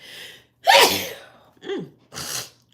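A sharp, close sneeze bursts out after a short breathy intake, followed by two smaller voiced exhalations, with no talking.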